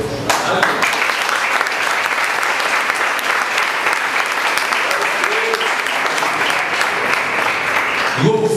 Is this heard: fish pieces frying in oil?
no